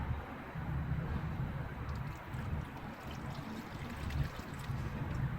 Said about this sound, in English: So pour that in